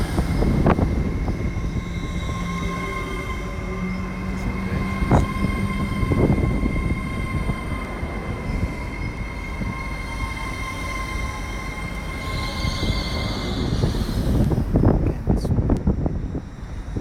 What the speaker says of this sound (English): Transpennine Express coming into Manchester Airport